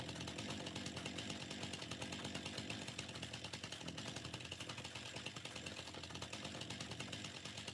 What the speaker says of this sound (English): I'm too busy running around my fields with a chainsaw.